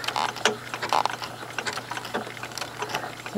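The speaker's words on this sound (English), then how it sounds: "I'm just going to stitch a little bit more down into the corner" A home sewing machine runs in short bursts, stitching down quilt binding into a corner, with a steady mechanical whir and rapid needle ticking broken by brief pauses and fabric handling.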